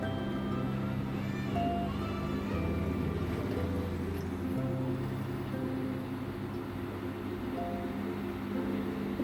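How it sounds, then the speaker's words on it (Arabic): A Toshiba washing machine whirs steadily through a fast spin-dry cycle, a continuous low mechanical drone with faint higher whine, heard close and fairly quiet throughout. "دي مرحلة التجفيف، طبعا بتلف بسرعة جدا عشان تجفف."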